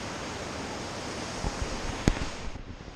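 A misty waterfall near Ghandruk, Nepal gives off a steady, full rush of falling water. It is broad and continuous, with a few faint knocks toward the end.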